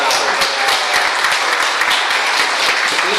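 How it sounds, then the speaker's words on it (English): Dense, loud applause fills a general meeting hall as Valerie takes the stage, many hands clapping close and steady throughout with a few voices mixed in. "A little applause for Valerie."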